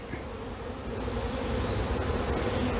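Honeybees buzz steadily on a wax frame being moved from a nucleus colony into a hive, a close continuous hum that swells slightly louder partway through, with no voices.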